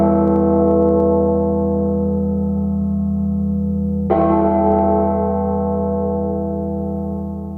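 A church bell rings with a loud, sustained harmonic tone and a fresh strike near the middle, its long resonant hum slowly decaying toward the end with no voices.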